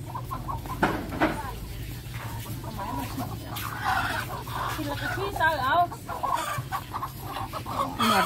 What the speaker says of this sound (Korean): 병아리도 파네요.